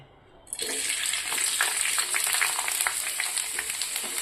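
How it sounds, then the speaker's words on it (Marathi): After a brief quiet moment, moist onion hits hot oil and bursts into loud, continuous sizzling and crackling that holds steady to the end. "तेलात कांदा टाकून घ्यायचा आहे"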